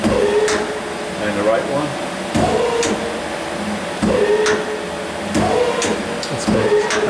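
Hydraulic chuck on a Doosan PUMA 2600 CNC lathe cycling closed and open, heard as several loud, abrupt clunks with hissing bursts spaced a second or two apart over a steady machine hum, with brief speech in between.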